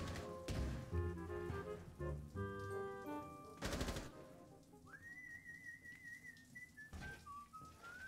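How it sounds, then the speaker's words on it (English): Eerie whistled tune in Rainbow 6 Siege: a sustained, slowly gliding melody line drifts in midway and bends at the end, following bursts of gunfire-like noise and layered musical tones. "Someone's whistling."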